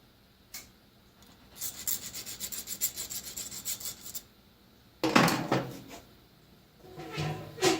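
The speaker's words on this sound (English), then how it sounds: "Got to get rid of the burr from the saw." A burr is rubbed and filed off a saw during a snowblower wiper motor repair: quick rhythmic scraping strokes in a run, a brief pause, then louder rough rasping bursts, close-up and with no voices.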